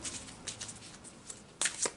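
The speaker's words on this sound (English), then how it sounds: "Let me cut my deck first." A deck of tarot cards is shuffled and cut in a quiet room, soft riffling flutters followed by two crisp, brighter snaps of the cards near the end.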